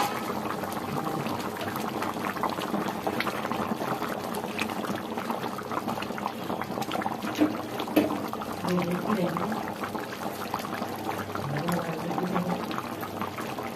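Fish curry simmers in a pan with a steady, close bubbling and popping that runs continuously at an even level from start to finish.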